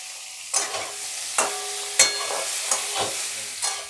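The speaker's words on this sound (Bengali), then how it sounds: "এখন বেগুনগুলো একটু ভাজা করে দিই।" Eggplant sizzles in hot oil while a utensil stirs and scrapes the pan every second or so, each stir causing a bright burst of crackle.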